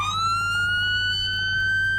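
Roblox police vehicle siren in its whale tone, a steady rising electronic wail with strong harmonics, loud and close, heard alone with no talking.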